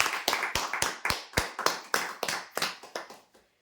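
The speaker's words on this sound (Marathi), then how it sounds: "जोरदार टाळ्या होऊ द्यासाठी." Sparse clapping from a small audience for prize winners at a weekly lucky draw, a dozen or so distinct sharp claps in loose succession that thin out and stop.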